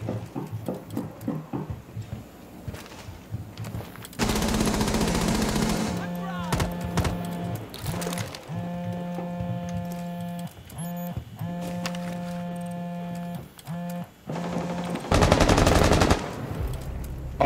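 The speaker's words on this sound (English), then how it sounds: "They're shooting you through the Hibana hole from the window." Gunfire in Rainbow Six Siege on the Hereford map: bursts of rapid automatic fire, with a steady electronic hum and alert tones between volleys.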